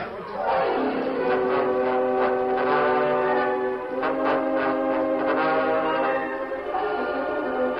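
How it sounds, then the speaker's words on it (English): A steam train effect from an old-time radio Western drama, with a sustained horn or whistle blast and rumbling engine noise that swell and fade over several seconds, heard alone without talk. "run up front to the engine. We'll uncouple it and use it to get away."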